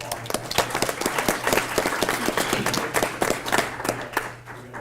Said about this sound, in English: So again, quick round of applause.